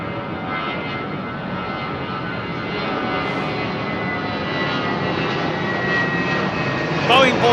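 An Airbus A380 jet departing Heathrow for Johannesburg roars in a broad, steady wash of engine noise that swells slightly louder over time, heard from a distance at the airport.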